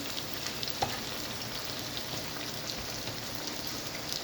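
Vinegar being stirred into an escovitch fish sauce on the stove, a dense, even sizzle like rain with a faint utensil tap, heard close and without voices.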